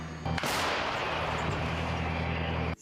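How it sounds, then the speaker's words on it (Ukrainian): A self-propelled howitzer fires a single powerful blast that booms out, followed by a long, dense roar and rumble that rolls on for a couple of seconds before cutting off. "Екіпаж наводиться на ціль і веде вогонь."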